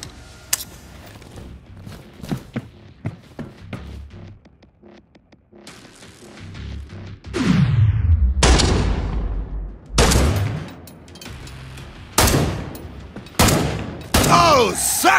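Bursts of gunfire from players shooting Zeds in Killing Floor 2, loud and repeated in several sharp volleys through the second half, with quieter scattered shots and game noise earlier and voices talking over parts of it.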